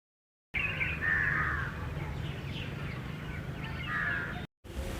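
Peacock calls at a stone temple site, two loud nasal wailing cries, the first longer and the second shorter near the end, carrying over a steady low rumble of wind or ambient background.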